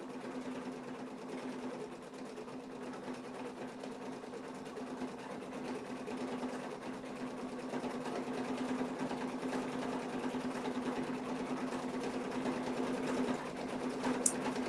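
An embroidery machine runs steadily, stitching a satin stitch around a flower on a mug rug, with a continuous fast whirring hum that is fairly quiet and unbroken for the whole stretch.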